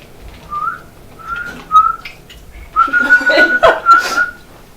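A person whistles a few short notes, then a longer wavering phrase, close and clear with breathy noise around it.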